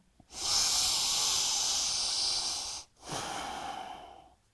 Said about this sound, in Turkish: Bir süre bu şekilde nefes alıp veriyorum.